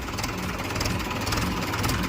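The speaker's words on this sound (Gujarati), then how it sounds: "જો મિત્રો, ટ્રેક્ટર ચાલુ પણ છે, કોઈ જાતનો શેનો અવાજ પણ નથી" A Mahindra Bhumiputra 475 DI tractor diesel engine idles steadily at close range, giving a continuous low rumble with no voice over it.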